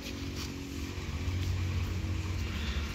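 A steady, low diesel tractor engine idles continuously with a deep rumbling hum, close by and fairly quiet, with no voices.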